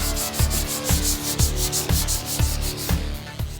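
Rhythmic hand sanding of spot putty with 120 grit sandpaper, seven even back-and-forth scrubbing strokes about half a second apart, close and clear with no talking.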